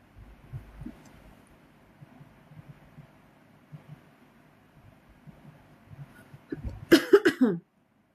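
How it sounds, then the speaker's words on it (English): A burst of a few harsh coughs comes near the end after quiet low background noise, close and fairly loud, then stops abruptly. "Alright, this random cough coming through."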